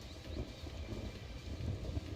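Thunder and rain conjured by a bad-weather device in the video game Final Fantasy XIII: a faint, continuous low rumble with a soft wash of rain, steady throughout without voices.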